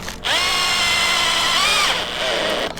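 A power drill drives screws into a wooden hammock pergola frame, a steady high whine rising briefly in pitch before slowing, with a short second burst near the end, close and loud.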